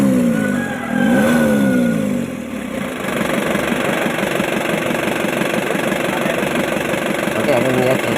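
Isuzu Elf diesel engine running close up, a loud steady idle with a brief rise in revs near the start, chattering evenly; a voice talks over it.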